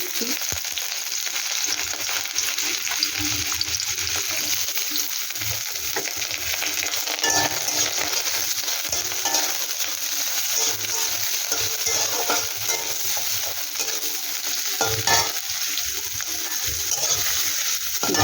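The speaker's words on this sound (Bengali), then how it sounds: "এবার পেঁয়াজটা আমি দিয়ে দিচ্ছি পেঁয়াজটা একটু ভেজে" Onions fry in oil in a kadai with a continuous close sizzle. Repeated stirring scrapes and clatters run through it, with no talk.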